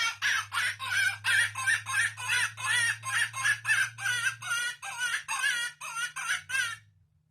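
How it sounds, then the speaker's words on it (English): A cottontail rabbit distress call played through a Primos Dogg Catcher electronic predator caller: a loud, rapid run of about twenty harsh, wavering squeals over a low electronic hum, ending abruptly. "Cottontail distress"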